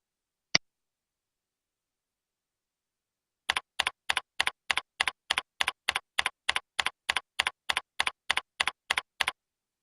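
Typing an email username on a computer keyboard: a single key tap, a pause of about three seconds, then a quick, even run of around twenty crisp keystrokes, close and clear against silence.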